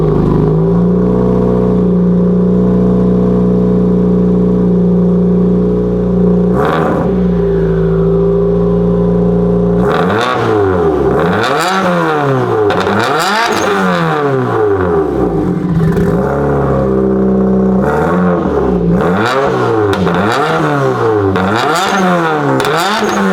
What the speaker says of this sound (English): This is definitely the most deserving of a startup because we literally just put a new exhaust on it yesterday.